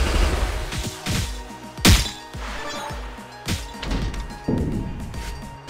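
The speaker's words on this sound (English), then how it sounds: "Moonsault, this will destroy the first row." In WWE Champions, a Moonsault attack lands with a series of heavy game impact crashes and thuds, a big smash near the middle among several smaller hits, over layered electronic effects.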